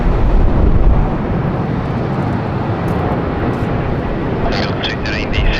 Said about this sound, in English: The Air India 787-8 off to New Delhi.